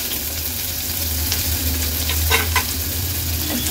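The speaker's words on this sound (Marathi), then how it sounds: "मीडियम साईजचा एक कांदा आहे, तो आता फोडणीला घालणार आहोत।" One medium onion goes into hot oil tempered with cumin seeds and bay leaves for a restaurant-style North Indian thali, making a dense, continuous sizzle with a few soft scrapes of stirring and no voices.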